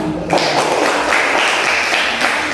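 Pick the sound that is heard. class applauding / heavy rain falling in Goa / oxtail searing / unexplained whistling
class applauding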